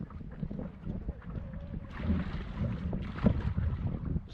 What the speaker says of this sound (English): windy out here. The headwinds are strong.